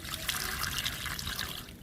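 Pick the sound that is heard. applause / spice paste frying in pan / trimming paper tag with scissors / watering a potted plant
watering a potted plant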